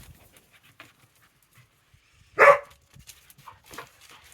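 A dog gives one short, sharp bark amid quiet panting and faint whimpering noises indoors, with long stretches of near silence around it.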